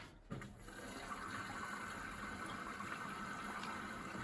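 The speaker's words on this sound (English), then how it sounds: "Now it's taking on more water." An Indesit IWDC6125 washer-dryer taking on water, a steady rushing, hissing fill that runs on evenly after a brief knock at the start.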